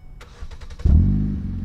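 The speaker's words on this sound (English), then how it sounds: "I got remote start. That's another thing I love about this car." A 2008 Ford Focus Mark II engine starting remotely: a brief run of cranking pulses, then it catches into a loud, steady idle that holds close by with no talk.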